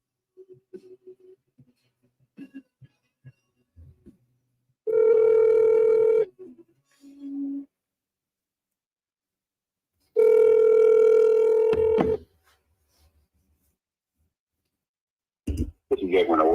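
A telephone line rings after dialing, sounding two long, loud ring tones several seconds apart with faint clicks between them, before a recorded voice picks up at the end.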